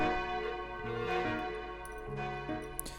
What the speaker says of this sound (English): Suddenly, the bell rang.